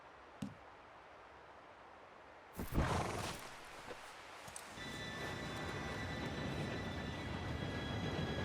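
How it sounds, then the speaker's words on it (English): In the video game Red Dead Redemption 2, a train draws near: a faint hiss gives way to a loud rushing burst, then a steady mechanical roar with a high whistling tone that holds to the end. "Train should be here any minute now."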